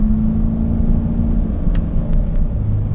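Car engine accelerating under throttle, a loud, close, steady low rumble with a whirring drone held throughout and no talking.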